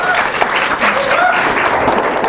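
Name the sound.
applause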